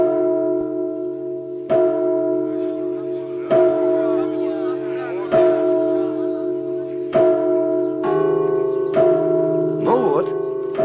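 A church bell rings in slow, steady strokes, about seven loud resonant clangs with long ringing overtones overlapping one another, heard alone without talk.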